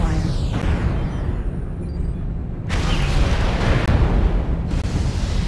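A heavy explosion in MechWarrior Online as a target is destroyed: loud rumbling booms with crackling debris, a first blast followed by a second swelling burst, sustained and near.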